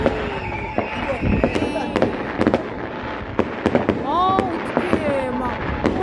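New Year's fireworks in Europe: repeated sharp bangs and crackles burst at irregular intervals, with whistling rockets rising, over a murmur of distant voices outdoors.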